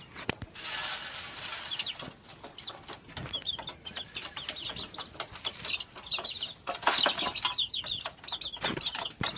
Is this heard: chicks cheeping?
yes